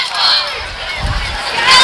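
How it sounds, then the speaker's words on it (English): Large crowd at a night high school football game, Winder-Barrow versus Westlake, roaring with a steady cheering wash that swells near the end, the noise broad and continuous. "Huge crowd on here tonight."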